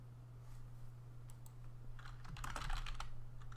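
Loud clacking of a computer keyboard during a PVP game session with friends, sparse keystrokes at first that build into a dense, rapid burst of typing over a steady low electrical hum.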